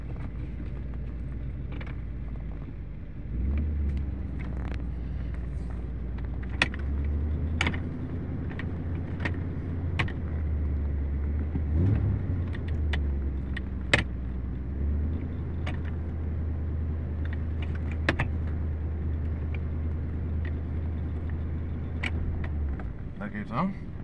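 A Cadillac Seville with a 368 V8 6.0L engine drives after sitting for years, its low, steady engine rumble carrying throughout, with scattered small clicks and rattles inside the cabin.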